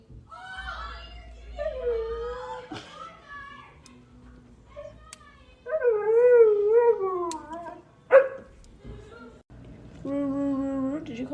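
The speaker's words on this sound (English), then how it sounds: "have a husky howling and to have a conversation with a husky" A husky howls and vocalizes indoors in a long back-and-forth series of drawn-out, wavering howls and yowls with short pauses between them. The sounds are close and fairly loud.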